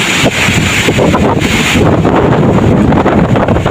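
Strong typhoon wind buffets the microphone in loud, rough gusts, roaring continuously with turbulent rumble and no voices.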